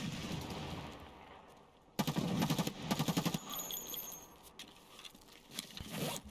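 A PP19 submachine gun firing in Escape From Tarkov, a rapid burst of close, loud shots in fast rhythmic bursts over a noisy background, with metallic rattles afterward.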